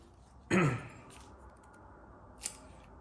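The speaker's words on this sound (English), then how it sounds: "I cut the leaves in half just to let a little more light and air into it." A single crisp snip of scissors cutting camellia bonsai leaves in half, quiet and close, followed by a faint second click a couple of seconds later.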